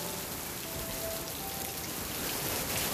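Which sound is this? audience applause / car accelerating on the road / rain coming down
rain coming down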